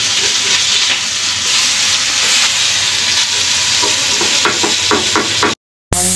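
Vegetables frying in a pan of oil give a steady, loud hiss and sizzle throughout, with scattered crackles and stirring scrapes toward the end before a brief cutoff.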